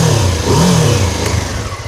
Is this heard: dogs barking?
no